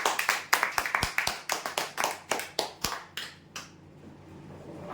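A small audience claps for a prize winner at a weekly lucky draw, a burst of sharp, uneven hand claps close by that thins out and fades into quiet after about three and a half seconds.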